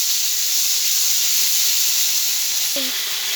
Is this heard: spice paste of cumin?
yes